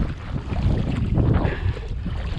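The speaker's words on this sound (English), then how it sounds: "See, it's kind of windy." Wind gusts past a small 8-foot kayak paddled on Puget Sound saltwater while salmon fishing, a steady broadband rush and buffeting on the microphone with low rumble throughout, no voices.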